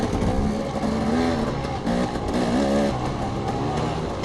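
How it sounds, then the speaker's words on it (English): Motocross bike engine during a dirt race, a continuous buzzing two-wheel motor whose pitch rises and falls as the rider shifts and revs, loud and close throughout. "the sound of his bike."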